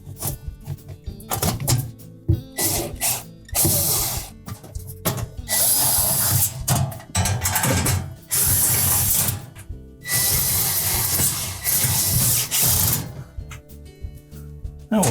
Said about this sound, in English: Now we'll tighten all 4 of these screws securely